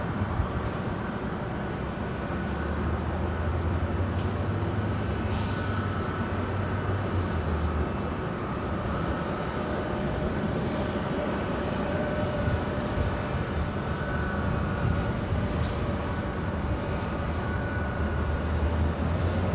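A Japan Air heavy jet rolls for takeoff on runway 24 left at LAX, a steady broad engine roar with a low rumble that holds loud and even throughout, with no voices.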